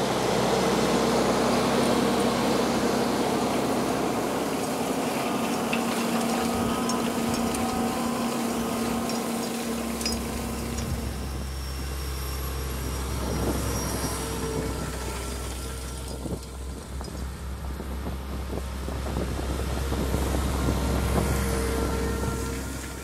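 A tractor-pulled subsoiler with two beams of tines being driven through a field, giving a continuous loud engine drone with low rumbling and a shift in pitch partway through.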